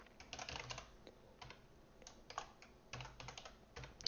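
Quiet, close keystrokes on a computer keyboard while code is written, coming in quick irregular clusters separated by brief pauses, with no speech.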